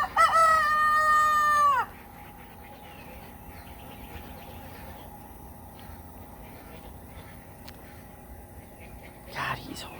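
An Easter Egger rooster crows loudly once up close, a long harmonic call in the first two seconds, followed by quiet farmyard ambience and a short second crow at the end.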